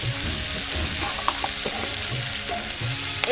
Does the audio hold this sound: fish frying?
yes